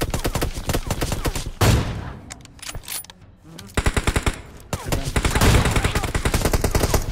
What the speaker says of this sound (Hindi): अभी सामने से कोई बंदा सप्रेसर लगा के एकेएम चला रहा था